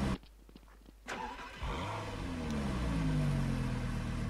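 A stolen car's engine cranks and catches in the DarkRP video game, settling into a steady, loud running hum with a low rising drone after a brief quiet start.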